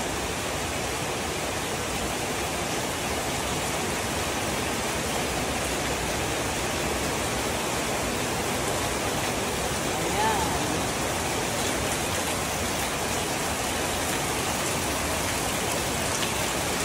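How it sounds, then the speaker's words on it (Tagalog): Heavy rain falls on garden plants as a dense, unbroken hiss of drops that stays loud and steady throughout. "malakas na din po yung ulan na yan guys"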